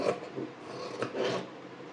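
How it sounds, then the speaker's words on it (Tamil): Scissors cut crosswise through blouse fabric at a tailoring table, giving a soft rasping, rubbing sound in a few close strokes, louder around the middle and end. "மார்க் பண்ணிவிட்டு நான் கிராஸாக கட் பண்ணி எடுத்துறேன்"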